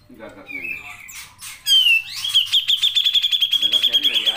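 A grey-cheeked bulbul sings in bright whistled phrases, then settles into a loud, rapid run of repeated chirps close to the microphone, with a faint voice or bird chatter low in the background at the start.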